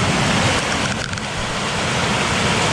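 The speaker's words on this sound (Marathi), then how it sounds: "वहाळ्याचं पाणी कितीकडे वाहणार आलं बघा" A swollen village stream in Ambavali rushes past in a steady, loud, broadband wash of flowing water that fills the whole moment without a break.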